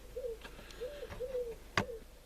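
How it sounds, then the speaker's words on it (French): A pigeon coos in short, soft, repeated phrases, three or four gentle rising-falling calls at moderate distance, with a sharp click of handling noise in between. "Ta gueule le pigeon."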